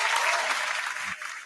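Steady audience applause fills a live podcast show, dense clapping from a crowd of a few hundred people, held evenly loud before thinning slightly near the end.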